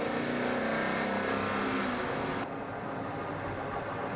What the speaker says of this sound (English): Never driven such a raw hypercar.